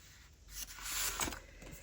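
Scissors cutting paper for a small handmade junk journal, a brief close scratchy snipping lasting under two seconds, quiet and alone.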